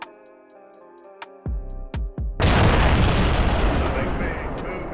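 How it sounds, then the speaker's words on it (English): Frame charge detonation in the video game Arma 3: after a few sharp thuds a big explosion erupts into a loud, sustained roaring blast that lingers and slowly decays. "Clear to detonate."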